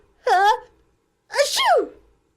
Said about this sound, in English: Here, let you sneeze again and then you say you're sorry.